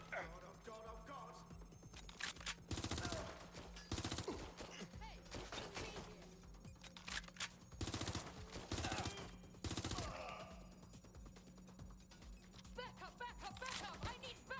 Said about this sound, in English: They're shooting at us. Suspect has opened fire.